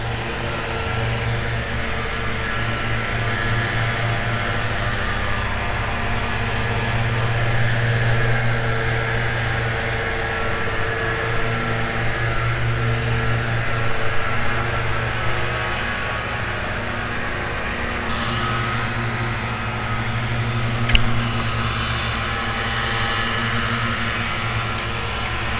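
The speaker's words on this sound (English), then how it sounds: "Sorry for the noise. They're mowing the lawn." A steady low mechanical engine drone runs continuously throughout, like a mower working nearby, with a brief sharp knock partway through.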